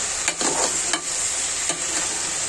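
Green chillies stirred and fried in a pan for pickle, giving a steady close sizzle with a few scraping strokes of the spoon.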